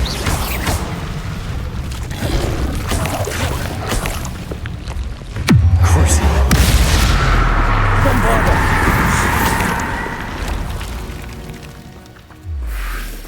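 Bombarda spell blasts in the Hogwarts Legacy video game, a deep booming explosion with a rumbling low tail, set among other game effects and mechanical clatter, with a voice speaking over it.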